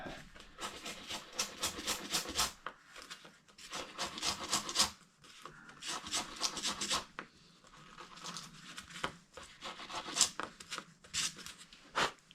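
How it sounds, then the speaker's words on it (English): Hand scrubbing of grime off a washer from a 1963 Schwinn Traveler bicycle: close, rough rasping strokes come in bursts with short pauses between them, steady and dry, and no voices are heard. "let's clean this washer up a little"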